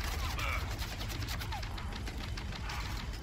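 Rapid gunfire and explosions from the co-op campaign of Gears of War 4, a steady dense barrage of overlapping shots with faint voices mixed in.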